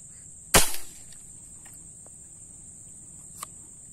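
A single sharp gunshot cracks out loud and close while hunting tiksay fish on Laguna Lake in the Philippines, with a brief ringing tail, then quiet outdoor ambience, a faint insect-like tone and one small click later.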